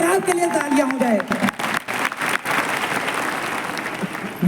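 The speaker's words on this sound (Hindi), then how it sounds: "एक बार आपके लिए तालियां हो जाए" An audience at a Safe Shop gathering honouring a new diamond achiever claps warmly; a voice leads in over the first moments, then dense, steady applause carries on alone.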